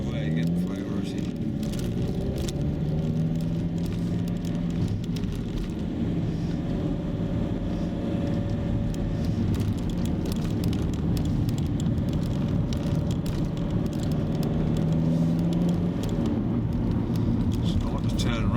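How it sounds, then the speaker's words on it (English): A car drives on a narrow country road near Middleham and Spennithorne by the River Ure while another vehicle comes the other way, with a steady engine drone and low tyre rumble, wind buffeting the microphone, and someone talking over it. "The car's coming the other way again, priority."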